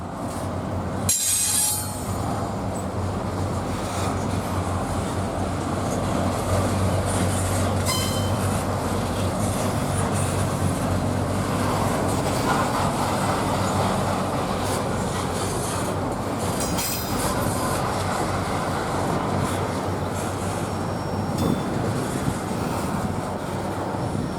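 A Norfolk Southern freight train, NS26A, rolling southbound in Mableton, Georgia, a long continuous rumble of cars and wheels with occasional high wheel squeals, steady and fairly loud throughout, no talk.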